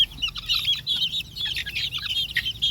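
Chickens and young chicks cluck and peep close by in a busy, continuous chorus of short high calls, with no voices.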